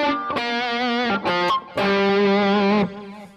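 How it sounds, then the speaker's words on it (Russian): Distorted electric guitar playing an arpeggio phrase, opening with a pre-bend released downward, then sustained gritty notes in short rhythmic bursts, loud and close. "Это арпеджио, которое начинается с бенда вниз, то есть пребенд."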